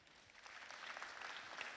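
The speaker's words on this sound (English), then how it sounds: "that deserves a round of applause" A council meeting audience gives a short round of applause, soft and distant-sounding, the clapping swelling slightly over a couple of seconds.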